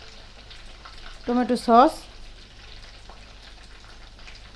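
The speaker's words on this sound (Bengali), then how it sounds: "মাংসটা এখানে ভাজানো হোক" Meat frying in a pan, a constant soft sizzle and crackle nearby, with a person speaking briefly over it midway.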